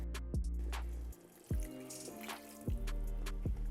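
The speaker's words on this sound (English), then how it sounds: "and 1 cup of white vinegar." White vinegar poured into a pot of pickling brine for jalapeño rings, a steady liquid stream with several brief drips and splashes, close and fairly loud, with no talking.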